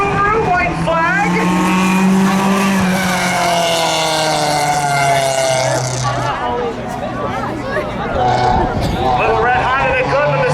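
A Honda and a Subaru race down the backstretch of Hudson Speedway in a spectator race, engines roaring loudly and shifting pitch as they pass near, while an announcer talks over the noise.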